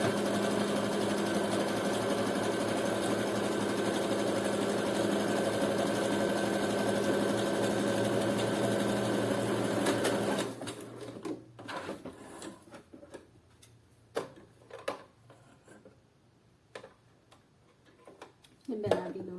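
A sewing machine stitches steadily for about ten seconds, a dense even mechanical whir, then stops and leaves a few scattered clicks and handling knocks while a person talks.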